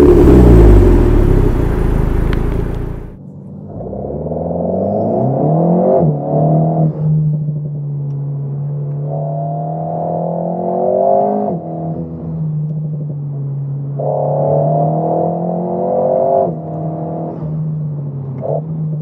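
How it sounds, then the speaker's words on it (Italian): An Alpine A110 GT's four-cylinder engine, full-bodied at low revs, rises after an initial loud rumble through repeated smooth pulls up and down the rev range, heard from inside the car with no talk. "per essere un normale 4 cilindri sono riusciti a dargli un carattere incredibile, molto corposo ai bassi"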